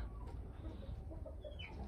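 Kuchinsky breed chicks chirping in short, high peeps, a few scattered calls close by over a low steady background hum.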